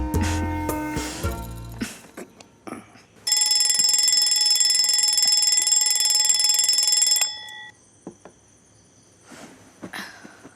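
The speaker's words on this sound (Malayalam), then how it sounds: "ഞാൻ അലാറം വയ്ക്കാം" An alarm clock bursts into a loud, continuous electronic ring for about four seconds before stopping abruptly, set between softer scattered household noises and clicks.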